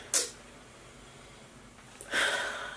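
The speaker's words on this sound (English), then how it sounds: "I think I secretly have a sniffing problem." Two quick, breathy nasal sniffs, one at the start and a longer one near the end, close and fairly soft.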